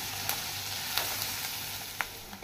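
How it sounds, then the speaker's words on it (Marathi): Onion fries in oil with turmeric for poha, a close, continuous sizzle with a few soft clicks of stirring. "कांदा हा व्यवस्थितरित्या हलवायचा आहे।"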